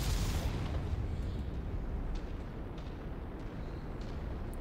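Missile salvos in the mech combat game MechWarrior 5 open with a sharp burst, followed by a dense, sustained roar of rumbling blasts that stays loud throughout.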